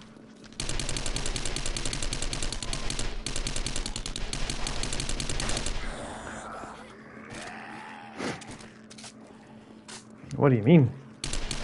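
Rapid automatic gunfire at a zombie in the video game 7 Days to Die, a loud dense burst for about five seconds, then scattered shots, a zombie groan and brief talk.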